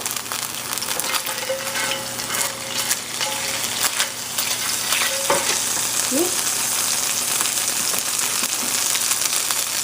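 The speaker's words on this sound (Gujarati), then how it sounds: "તેલ ફાઇન ગરમ થાય છે એની અંદર નાખી દઈશું આપણું આદું અને સ્પ્રિંગ અનિયન" Oil heats in a pan for frying, giving a steady close sizzle and crackle with a few scraping stirs, heard alone without talk.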